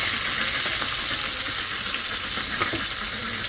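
Fish frying in a hot pan, a continuous moderate hiss with faint spattering crackles and occasional soft stirring sounds, close by, with no voices.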